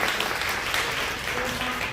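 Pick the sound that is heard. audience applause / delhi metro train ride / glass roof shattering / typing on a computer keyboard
audience applause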